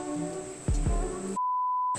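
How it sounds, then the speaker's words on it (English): A washer timer gives a single clean electronic beep that holds steady for about half a second, close by, following a short stretch of room noise. "timer is going off, which means I need to move the stuff over into the dryer"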